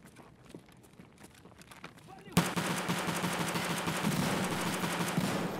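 Video game gunfire: quiet rustling and faint sounds, then a sudden loud burst of rapid automatic fire that continues densely to the end, close and harsh, with no clear talk.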